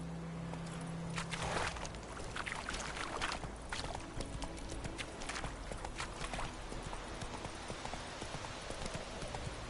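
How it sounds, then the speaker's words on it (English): Horse hooves clip-clop steadily as the horse is ridden in a video game, a continuous rhythmic patter of hoofbeats over a busy, noisy game ambience. "Whoa there, Roach"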